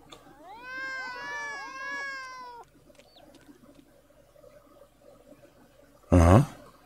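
A cat in the video game Green Project meows in a long, drawn-out series of wavering cries lasting a couple of seconds, fairly clear and close, followed by quiet and then a short loud burst of another sound.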